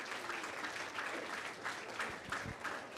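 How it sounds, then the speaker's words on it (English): An audience applauds steadily for a speaker named Jess, a soft, dense patter of many hands that stays even for about three seconds, with a few sharper individual claps near the end. "Can we clap for Jess?"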